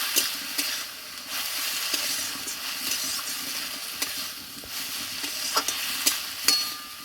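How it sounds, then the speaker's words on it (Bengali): Water lily flowers with salt and turmeric being fried and stirred in a pan. A constant close sizzle is broken by repeated scraping and tapping strokes of the spatula, some sharper than others, with no talking. "একবার এইভাবে শাপলার ফুল ভাজা করে দেখো খুব সুন্দর লাগবে খেতে"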